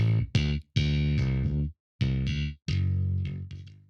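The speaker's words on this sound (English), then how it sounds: "So you can hear all that distortion coming now." Bass guitar notes played through a bass amplifier with the volume pushed up into gritty distortion. Several sustained, buzzy notes are separated by short silences and sound up close and clear.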